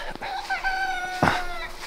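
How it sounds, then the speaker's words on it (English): A young rooster crows once, a short, slightly strained cock-a-doodle-doo with a bright harmonic tone, heard fairly close. "I don't know if you guys just heard our little baby rooster crowing"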